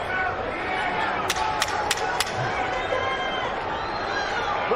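Steady babble of a large boxing arena crowd ahead of the Garcia vs Barrios fight, continuous and fairly loud, with a few sharp claps or thuds cutting through and a commentator speaking over the din.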